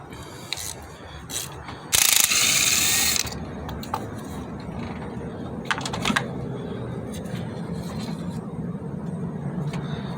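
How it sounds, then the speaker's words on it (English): A ratchet clicks rapidly while loosening spark plugs on a Chevy engine, with a loud burst of ratcheting followed by quieter intermittent clicks and tool clatter close up. "we're going to go ahead and pull these spark plugs out. It's a 5/8 spark plug."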